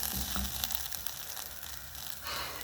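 Tomatoes sizzle and fry in oil in a pan, a steady close hiss that swells slightly near the end, with faint stirring clinks and no talking.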